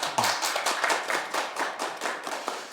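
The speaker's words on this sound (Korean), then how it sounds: "다시 한번 박수 한번 쳐주시겠어요?" Audience applause at a forum after two teachers' lecture, a lively round of clapping from a modest crowd with distinct individual claps, steady and fairly close throughout.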